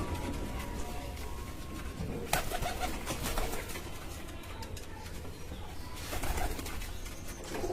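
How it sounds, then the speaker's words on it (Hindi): Pigeons coo softly and repeatedly at close range in a loft, with a few brief rustles and clatters among the birds. "मैं आपको दिखाता हूँ जरा कबूतर"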